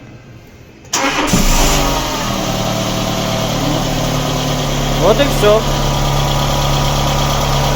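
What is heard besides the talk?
car engine starting cold and idling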